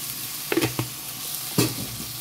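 Washed rice and cumin seeds are stirred in a pot over heat, a soft sizzling bed broken by a few scraping strokes of the spoon, close and fairly quiet.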